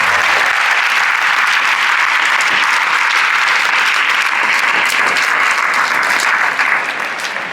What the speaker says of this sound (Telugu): చాలాసార్లు చప్పట్లు కొట్టాలి, ఓపికగా కొట్టాలి.